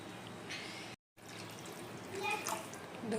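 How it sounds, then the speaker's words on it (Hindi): Two cups of water are poured into a pot of Maggi noodles, a soft close splashing trickle that briefly cuts out and then continues, growing slightly fuller toward the end. "दो कप भर के पानी डाल देते हैं।"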